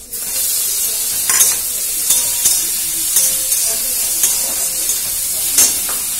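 Ginger and tomato hit a hot pan and sizzle loudly and close, a steady frying hiss broken by sharp crackles and stirring scrapes, with no one speaking.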